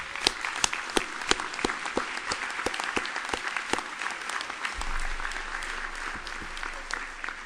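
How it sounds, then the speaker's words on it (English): An audience claps at the 2014 RTDNF First Amendment Awards, sustained applause from a hall full of people, with sharper individual claps standing out near the front. "let's give them a round of applause."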